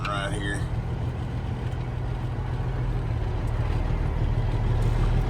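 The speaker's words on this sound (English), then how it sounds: "This truck sucks at left-hand turns" A Peterbilt 359 truck pulling a Timpte hopper trailer rumbles steadily in low gear while maneuvering through a tight downtown turn, a constant deep engine drone heard from inside the cab with someone talking over it.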